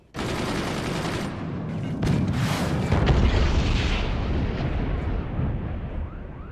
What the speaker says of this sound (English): Howitzer shot coming in here.